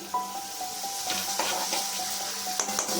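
Tomato paste hitting a hot pan for a paneer masala, giving a steady close sizzle with a few stirring scrapes and clicks from the pan, no voices.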